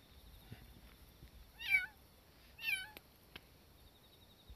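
Two high, thin kitten meows about a second apart, fairly faint against a quiet background, followed by a soft click.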